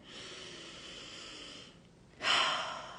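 A long, slow deep breath in, close and airy, then a short pause and a stronger, brighter rush of breath in a quiet room.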